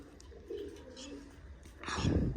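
Pigeons coo softly in a loft, low rolling calls under a busy background, with a louder burst of fluttering or movement near the end.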